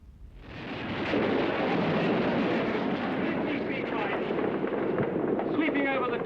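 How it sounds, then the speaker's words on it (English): A broad, sustained roar of war sound, as aircraft strafe a town and drop rockets during the Nigerian Civil War, swells up within the first second and holds steady and dense without a break. "Sweeping over the town, strafing and dropping rockets as they move."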